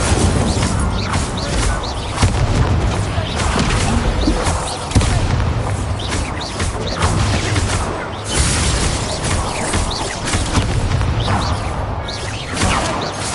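The Incendio fire spell bursts repeatedly in Hogwarts Legacy, giving dense, loud booming blasts and crashing whooshes layered nonstop over a continuous roar.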